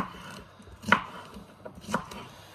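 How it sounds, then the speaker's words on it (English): A knife cuts through popcorn salad ingredients on a board for a festive dish, giving two distinct chops about a second apart over a faint background hum. "I'm going to carefully cut"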